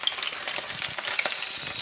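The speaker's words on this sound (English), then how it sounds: "that's one of the fish that is frying in the oil." Fish for Jamaican brown stew fries in hot oil, giving a close, busy crackle and sizzle with sharp popping spatters throughout.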